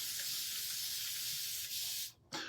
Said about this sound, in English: Where's my spray bottle? Right here. I have a lot of transfers to clean.